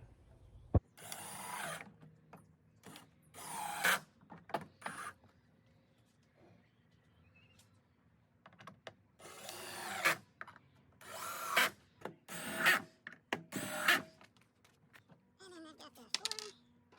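A power drill drives screws into wooden outdoor furniture in several short whirring bursts, each a second or two long and separated by quiet pauses, close by with no talking.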